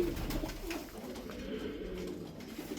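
Zil Arabian play pigeons coo in low, throaty bursts close by, layered over a steady murmur of birds and background noise.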